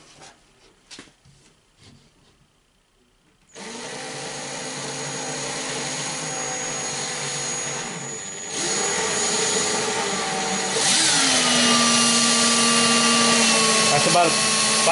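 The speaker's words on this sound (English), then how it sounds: "Let's say this drill, for example." An electric drill whirs steadily from about a foot away, starting abruptly after a few faint knocks and quiet, then stepping up in speed twice to a louder, higher whine that holds to the end.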